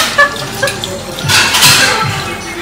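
Water runs and overflows from a tank with a steady splashing gush and scattered drips, fairly loud and near, while voices talk faintly in the background.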